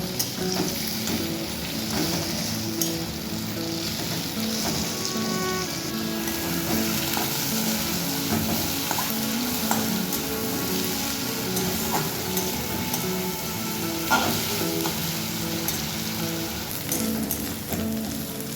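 Sliced onions frying with tempering spices in a pan, a dense continuous crackling sizzle like rain on a surface, steady and close throughout, with occasional faint clicks of a spatula and no talking.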